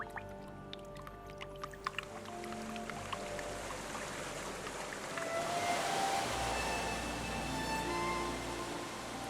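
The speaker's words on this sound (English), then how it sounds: "the Highlands are suddenly full of the sight and sound of waterfalls" Spring meltwater from ice pouring down waterfalls in the Scottish Highlands, a broad rushing roar that swells halfway through and continues beneath soft tonal music.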